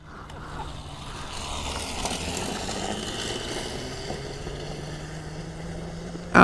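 Motorcycles with chain drives riding off-road on gravel, a steady droning engine and drivetrain noise holding at moderate level throughout, with a sharp loud burst right at the end.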